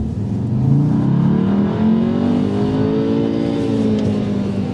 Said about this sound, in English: Just goes up past the red line, and that's not good for the engine.